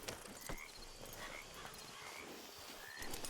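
A horse in the Red Dead Redemption 2 video game clip-clops along with steady hoofbeats and a brief whinny, set against a busy, noisy in-game ambience.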